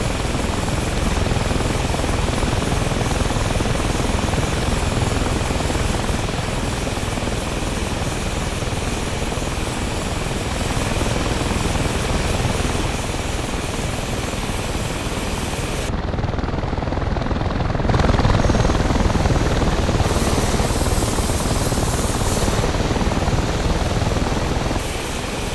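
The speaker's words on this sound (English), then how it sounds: "Release the wheel brakes and resume the taxi." An A-29B turboprop taxis in a flight simulator game, giving a loud, steady whining drone of engine and propeller. It runs unbroken throughout, with small shifts in tone near the end.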